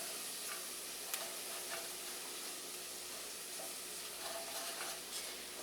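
Spices stirred and mixed in a hot pan with oil for chicken enchiladas with mole, giving a steady soft sizzle with faint scraping strokes, close and quiet, no voices.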